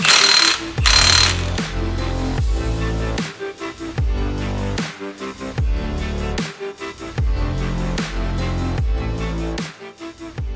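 A ratchet wrench turning a nut on a Honda 300ex ATV, repeated close clicking strokes in a steady back-and-forth rhythm with short pauses between pulls, loud and alone.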